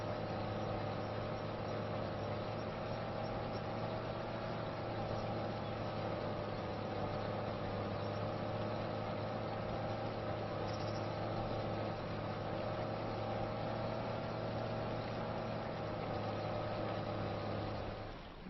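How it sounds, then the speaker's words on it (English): A tractor engine idles steadily in Farming Simulator 25, a constant low rumbling drone that stays even and unbroken for the whole stretch, moderately loud and close, with no talking. "Switch the tractor off now."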